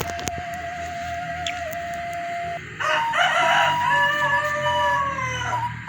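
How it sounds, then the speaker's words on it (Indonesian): Chickens cluck in the background while a rooster crows, one long crow rising loud and fairly near midway and holding for a few seconds, with softer clucks and bird calls around it at a rural spot where palm sugar is molded. "backsoundnya suara ayam ya teman"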